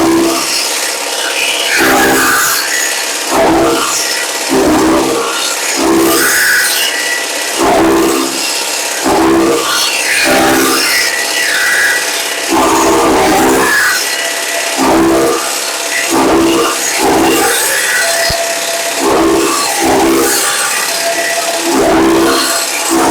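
A C² steel conveyor chaff cutter chops loose straw with a loud, continuous mechanical grind. Regular rasping bursts of cutting recur every second or two throughout.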